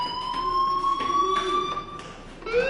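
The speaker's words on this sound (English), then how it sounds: "do you hear that fire alarm?" A fire alarm rings inside a video game, a steady electronic tone held over a noisy background that keeps sounding throughout, with a brief dip near the end before it swells again.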